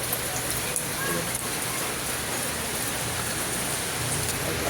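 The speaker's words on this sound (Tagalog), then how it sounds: "Ang lakas na ng ulan." Heavy rain falling steadily outside a house, a dense, continuous hiss that stays loud throughout, with faint low sounds in the background and no clear voices.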